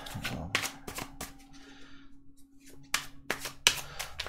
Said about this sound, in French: On va sortir 3 cartes.